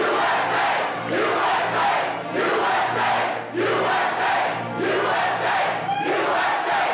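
Large crowd at a rally roaring and cheering in sustained, dense waves, loud and continuous with swelling peaks throughout.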